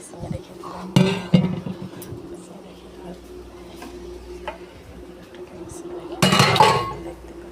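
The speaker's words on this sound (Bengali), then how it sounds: "আমি এবার গামলাটাকে বেসিনে রেখে দিলাম।" A metal bowl set into a kitchen sink, with a couple of loud metallic clanks near the start and another clattering knock later, against faint background hum.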